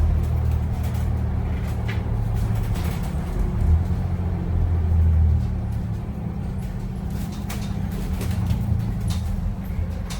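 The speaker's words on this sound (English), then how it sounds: "wait till the bus comes to a complete stop" Steady low engine rumble inside a moving Clovis Transit city bus, a continuous drone with slight surges and no voices.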